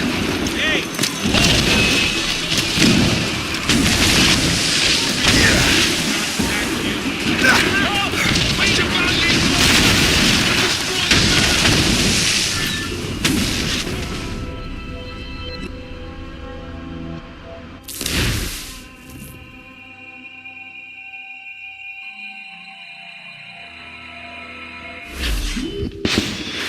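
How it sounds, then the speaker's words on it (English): Mortar fire in the Assassin's Creed Rogue video game: dense rumbling blasts and booms over shouting voices, then a quieter stretch punctuated by a few sharp, separate explosions. "Chevalier is using mortars to stop Shay."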